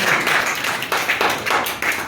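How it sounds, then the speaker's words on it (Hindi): Audience in a hall clapping for a student selected for the SSC MTS exam, a dense, steady round of applause with rhythmic swells and no voices over it. "चलिए ताली बजा दीजिए इनके लिए।"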